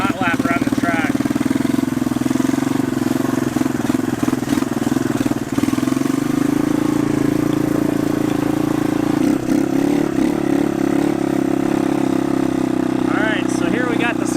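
A revived three-wheeler ATV revs hard on a hot lap around a dirt track, its mid-pitched engine buzzing loud and steady with rising and falling throttle, close and continuous throughout.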